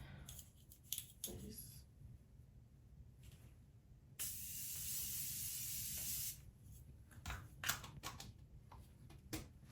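A steady misting spray hisses for about two seconds amid quiet handling clicks and rustles, close by.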